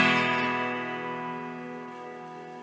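Beat-up Epiphone plywood acoustic guitar with a Danelectro pickup, ToneBar and thin 11–52 electric strings, one strummed chord ringing out and slowly decaying with bright sustained overtones, alone.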